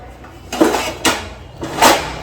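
Three distinct clattering bursts of pots and dishes being set down and stacked, loud and close, with short pauses between them.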